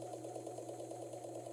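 An old sewing machine runs at full speed in a steady, even mechanical whir with a fast regular pulse, close and continuous and without talk.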